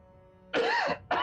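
Two short, harsh coughs from one person, the first longer and the second following about half a second later, close and fairly loud.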